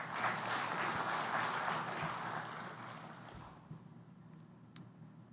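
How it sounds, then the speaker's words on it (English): An audience at a sustainability day event applauds in a dense burst that fades away after about three seconds, leaving a quiet room with a few faint scattered sounds. "Applause for all of us."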